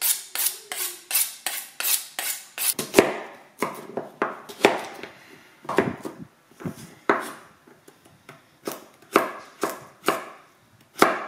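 Knife chopping carrots, onion and garlic on a board, a fast run of sharp, close knocks that pause briefly and then resume in quick bursts, with no voices.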